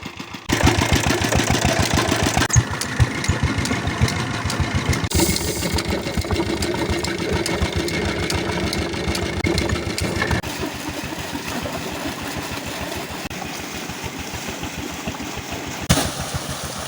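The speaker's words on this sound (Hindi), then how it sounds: "पीटर इंजन स्टार्ट हो गया" A diesel water pump engine at a rice field chugs steadily at a fast, even rhythm, loud and close, running continuously with slight shifts in tone.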